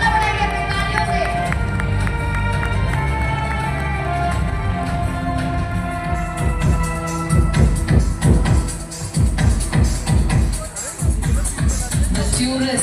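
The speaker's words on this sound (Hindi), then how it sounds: "Everyone, please give them a huge round of applause." Crowd noise and scattered clapping from an audience at a patriotic Independence Day dance event, a dense rhythmic patter rising over background music and chatter, swelling midway and then easing off.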